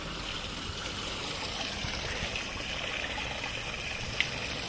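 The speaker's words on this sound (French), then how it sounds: "Voilà ma cascade. Pour cette année, elle sera comme ça." Small decorative garden cascade with water trickling and splashing steadily, a soft, even wash of running water at moderate distance with one brief sharp drip near the end.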